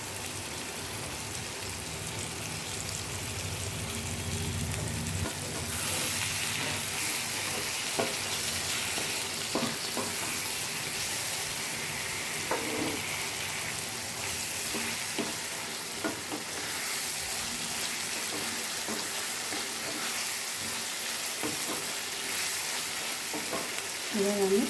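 Pasta sauce with soy sauce and tomato ketchup sizzles and spits steadily in a pan for the whole stretch, with occasional stirring scrapes. The sound is moderate in level and close, and no one speaks.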